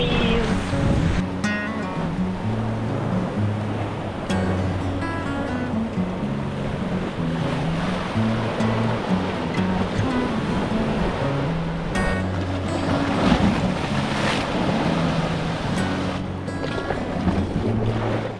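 Waves wash against a rocky coastline at Aireys Inlet on Bass Strait, a steady surf roar with wind noise buffeting the microphone and occasional splashes throughout.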